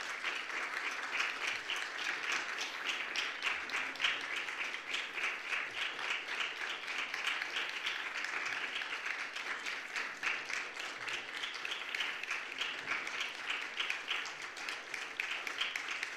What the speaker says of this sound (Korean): 다시 한번 힘차게 박수하시겠습니다.